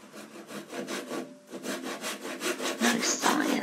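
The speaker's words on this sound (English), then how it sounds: "No, he's sawing it off." A hand saw cuts through wood in steady, rhythmic back-and-forth strokes, close and clear, with a brief pause partway through.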